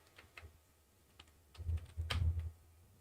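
A short, quiet burst of computer keyboard typing into a search field, a few light clicks early on followed by a louder cluster of keystrokes near the end, no voice present.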